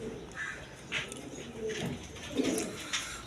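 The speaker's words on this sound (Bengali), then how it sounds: "এখানে এক পেয়ার রাসগোল্লা কবুতর দেখেন দুইটা বাচ্চা নিয়ে বসে রয়েছে" A pair of Rasgolla pigeons sitting with two chicks coo softly several times in short, low calls over faint background noise, with no talking.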